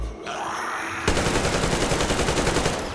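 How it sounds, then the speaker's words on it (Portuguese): Rapid automatic gunfire in the first-person shooter Metro Exodus, a loud sustained burst of repeated shots that starts abruptly after a quieter moment and runs to the end. "Enchemos o rabão dele de tiro."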